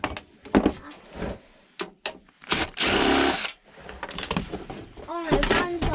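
A power drill backing out side screws in a craft room, short whirring bursts with one longer sustained run, close and loud, mixed with handling clatter and people talking over it.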